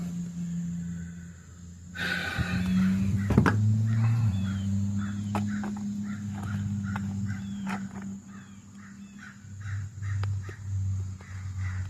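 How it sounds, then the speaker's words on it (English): Several crows caw repeatedly at a distance, a steady series of harsh calls over outdoor ambience and some nearby handling noise. "you hear them crows? I'm telling you, these birds make noise around here."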